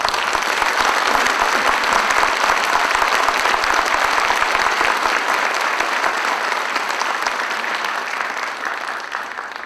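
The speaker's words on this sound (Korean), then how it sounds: "여러분 뜨거운 박수를 부탁드립니다." Sustained applause from a large audience at a university president's inauguration ceremony, loud and dense clapping that holds steady for about ten seconds before easing slightly.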